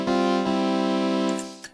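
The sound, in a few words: string waveform on miniBit chiptune synth app, iPad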